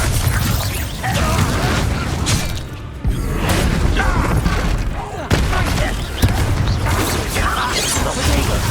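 Spell explosions from the Bombarda charm in Hogwarts Legacy: dense, loud bursts and crashing impacts fill the whole stretch, with a brief drop near the three-second mark, and voices mixed in with the action.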